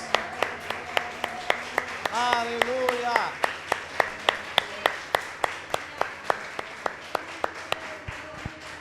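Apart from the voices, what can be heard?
congregation applauding in church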